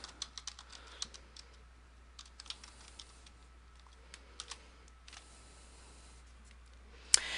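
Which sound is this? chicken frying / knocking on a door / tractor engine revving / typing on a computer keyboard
typing on a computer keyboard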